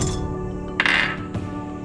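A couple of hard little clinks as ice cubes drop into a jar, one sharp clatter followed by a softer knock, over a low steady background hum.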